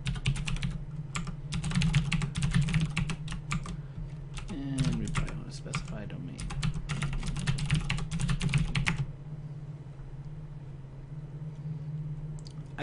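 Close keystrokes clatter in quick bursts on a computer keyboard for about nine seconds, and someone talks over parts of the typing. A low hum continues after the keys stop.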